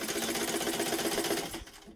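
A sewing machine runs steadily, stitching across the bottom of a fabric weekender bag while holding a pleat in place, with a continuous whirring drone that stops abruptly near the end.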